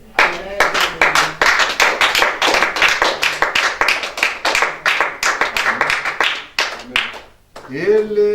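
A church congregation clapping to acclaim Jesus, loud steady rhythmic handclaps in quick succession, with voices calling out and singing over them toward the end.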